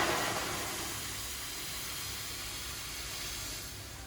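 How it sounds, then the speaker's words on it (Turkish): Boiling water hisses and sizzles as it is poured into a hot pot for cooking pasta, a steady steamy rush that starts strongest and then holds evenly. "Kaynar suyu ekliyorum."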